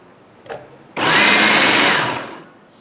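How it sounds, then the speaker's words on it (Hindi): An electric food chopper whirs through chopped tomatoes in one loud, continuous burst after a brief click, then spins down and fades. "अब इन टमाटरों को भी हम डालेंगे ये चॉपर के अंदर।"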